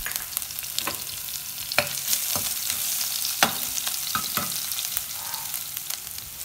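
Mustard seeds and cumin splutter in hot oil as crushed garlic is fried, a steady sizzle with scattered sharp pops and crackles, close and without talk.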